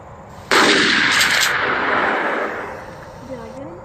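A single loud, close gunshot fired at a deer during a hunting trip, with a sharp crack and a ringing echo that fades over about three seconds.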